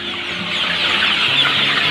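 Chickens clucking close by at a maggot feed farm, a steady dense cackle of fowl filling the whole short stretch with no talk.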